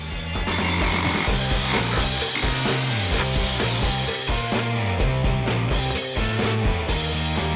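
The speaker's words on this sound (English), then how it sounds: "Harbor Freight rotary hammer drill for the win!" Loud, continuous rattling Harbor Freight rotary hammer drill pounding away with rapid percussive blows and shifting motor pitch, close by.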